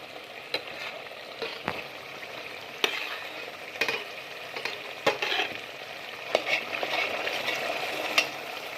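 Garlic paste fries with onion in a pan for shev bhaji, making a crackling sizzle with irregular spatula knocks and stirring scrapes, fairly close and moderately loud.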